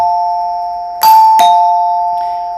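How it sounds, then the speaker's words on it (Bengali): A newly wired electric calling bell with a waterproof outdoor switch rings loudly and close. A steady electronic tone is broken by two sharp chime strikes about half a second apart, then fades slowly, with no talking. "দেখেন কি সুন্দর মতো কলিং বেল বাজতেছে"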